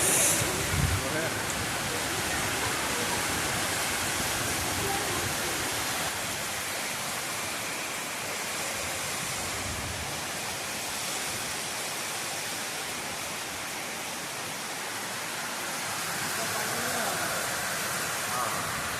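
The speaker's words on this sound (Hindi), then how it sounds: "पानी वर्षा है।" Steady, dense broadband hiss of heavy rain pouring without a break, loud and close throughout.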